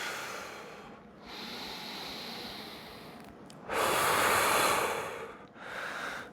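Deep breaths during a standing movement routine, slow inhales and exhales with one stronger, louder breath in the middle, close and airy with no talking.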